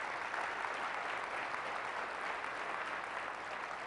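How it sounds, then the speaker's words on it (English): Steady, dense applause from a conference audience thanking event sponsors at an opening keynote, a continuous wash of clapping at moderate level with no talk over it. "Let's give them all a round of applause."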